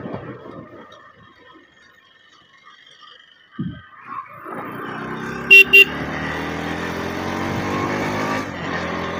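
An NS 200 or Duke 200 motorcycle fitted with a slipper clutch rides in top gear. A quiet start gives way to a steadily building engine drone, and two short horn toots sound near the middle.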